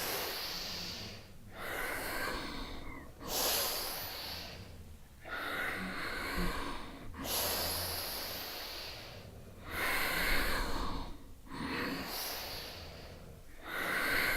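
During a yoga session, slow deliberate breathing comes in long audible inhales and exhales through the nose, alternating in an even rhythm of about seven breaths, close and fairly clear with no speech.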